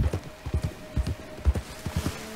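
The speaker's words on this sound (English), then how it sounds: "My horse didn't feel like stopping." A horse's hooves clip-clop in the video game Red Dead Online, a quick uneven run of hoofbeats over about two seconds, moderately close above a steady game background hum.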